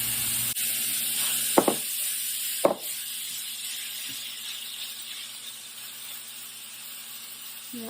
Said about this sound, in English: I'm going to go ahead and add this ground beef with our seasoning.